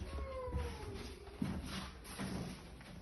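A cat's faint, drawn-out meow, sliding down in pitch, with quiet thumps and rustling in a small room.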